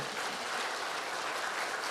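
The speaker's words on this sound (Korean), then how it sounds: "우리 뜨거운 박수로 환영하겠습니다" Warm applause from a church congregation welcoming visiting missionaries during a Sunday service, a steady dense clapping that fills the whole stretch without pause.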